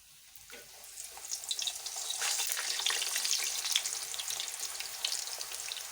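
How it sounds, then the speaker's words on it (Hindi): A rolled puri dropped into hot oil, the frying swelling from quiet to a dense, crackling sizzle that holds steady, close and without voices. "अब हम इसे गरम ऑयल में फ्राई कर लेंगे।"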